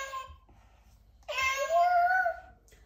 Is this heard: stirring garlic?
no